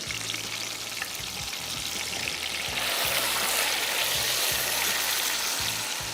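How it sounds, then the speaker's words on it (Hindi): Chicken fries in a pan with a continuous close sizzle and crackle that swells louder midway, under low irregular clatter, with no one talking. "तो इसको थोड़ा सा फ्राई करें।"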